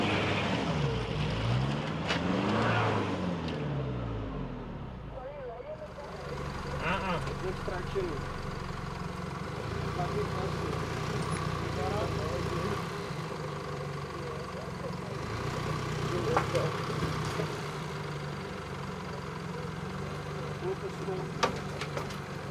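Isuzu KB 4x4 at an off-road club challenge struggling for traction on a climb, its engine droning and revving at moderate distance with sweeping pitch changes early on, then a steadier rumble, with a commentator talking over it.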